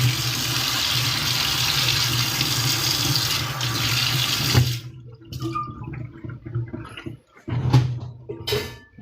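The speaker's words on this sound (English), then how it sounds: "This is the last thing out of the dirty sink." Water runs steadily from a kitchen tap into the sink while dishes are washed, then shuts off, leaving brief clinks and splashes of handling near the basin.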